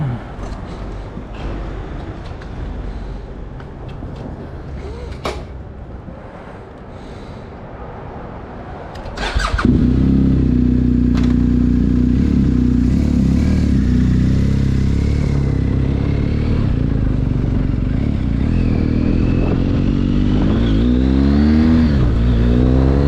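A motorcycle fitted with a GPS tracker, first quiet handling clatter, then the engine fires and settles into a loud steady idle before revving and pulling away, its pitch rising through gears toward the end.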